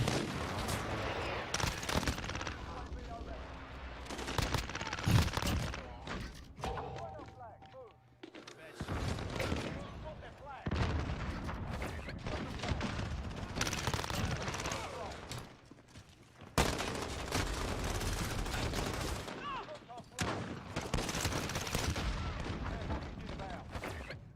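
Modern Warfare gunfire, with CX-9 bursts among it, comes in repeated rapid bursts and sharp shots separated by brief lulls, moderately loud, with occasional talk.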